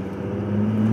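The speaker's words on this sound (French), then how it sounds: "Plaque un gros rupteur," A tuned Audi A5 with the 3.0 TDI V6 diesel engine and an automatic gearbox, held against the rev limiter, giving a steady loud drone that rises slightly toward the end, with no talk over it.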